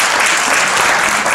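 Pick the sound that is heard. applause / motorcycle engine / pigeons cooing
applause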